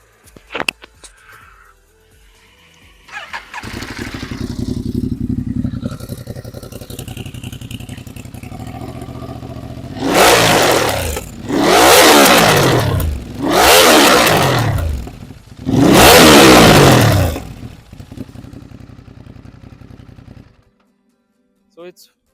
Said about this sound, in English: let's listen to the exhaust note of it